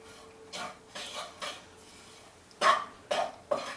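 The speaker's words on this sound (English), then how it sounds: "so I'm going to put in my taco seasoning package. Let's stir this all up in here right quick." Meat and taco seasoning being stirred in a pan, with a utensil scraping and clanking against the metal in several separate bursts, the later strokes louder and sharper, close by and with no talking.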